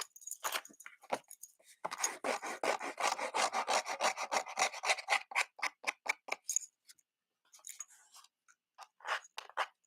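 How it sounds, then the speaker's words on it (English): The edge of a pair of scissors is scraped repeatedly along the edge of a paper card during stamping craft work, giving close, quiet rasping strokes in quick rhythmic runs with a brief pause before a final few strokes. "So you're just going to take the edge of your scissors and just"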